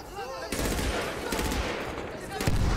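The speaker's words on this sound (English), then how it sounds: "you can hear the chain of the machine gun go just as loud as the gunshots themselves" Rapid bursts of machine-gun fire crackle in a dense, noisy Medal of Honor: Warfighter game soundscape, with loud sharp volleys at the start and near the end.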